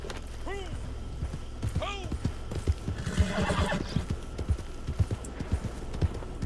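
A horse in Red Dead Redemption 2 Online whinnies twice, then rapid clip-clop hoofbeats follow as it sets off, with someone speaking over the gameplay.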